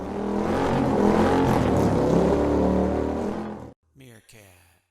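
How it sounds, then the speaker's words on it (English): Royal Enfield Classic Chrome 500 motorcycle riding up a snowy mountain road, its engine droning loud and steady with wind rush for several seconds before cutting off, followed by brief quieter sounds. "we're on the Royal Enfield Classic Chrome 500"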